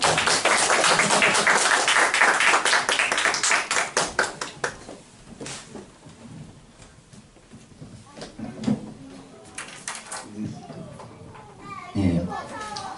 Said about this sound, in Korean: 우리 따뜻한 사랑의 박수로 환영하도록 하겠습니다.